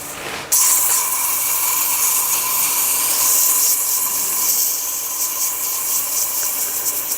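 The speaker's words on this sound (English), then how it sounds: "Now we'll sand, we'll slow down the lathe speed, and go through our grits again." Sandpaper held against a small turned wooden box spinning on a lathe at reduced speed: steady bright hissing whir that starts abruptly after a brief moment and runs on continuously, close and fairly loud, no talk.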